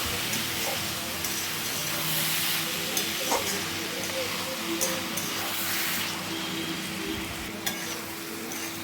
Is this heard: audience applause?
no